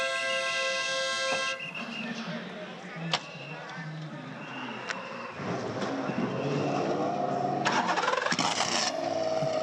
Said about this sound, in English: the sound of these cars firing into action, it makes the ground absolutely shake